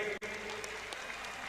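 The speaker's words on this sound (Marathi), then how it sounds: "टाळ्या करा की त्याच्यासाठी।" Dense, steady applause from a large crowd at a wrestling championship final, clapping continuously and loudly throughout with only a brief dip near the start.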